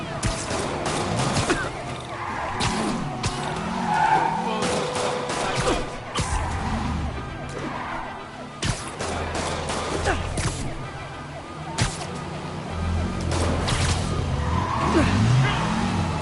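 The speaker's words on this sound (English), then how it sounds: "Yep, that's a high-speed car chase, all right." Car chase in the Marvel's Spider-Man video game, with revving engines, tires skidding and squealing, and occasional impacts, carrying on loudly for the whole stretch, mixed with game music and voices talking.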